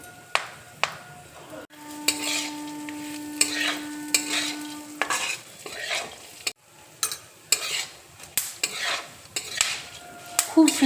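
Sesame seeds dry-roasting in a pan for dry fruit laddu, stirred with repeated rhythmic scraping strokes against the metal. A faint hiss runs underneath, and a steady hum sounds for a few seconds.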